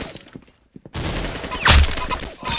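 Gunshots in the Roblox shooter Arsenal, a quiet start followed by loud dense firing with a sharp blast in the middle.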